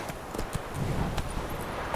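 Roach, a horse in The Witcher 3, galloping with quick, muffled hoofbeats close by over a continuous rushing background, no talk.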